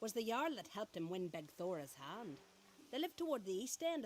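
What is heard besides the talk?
None of the usual background noises is heard.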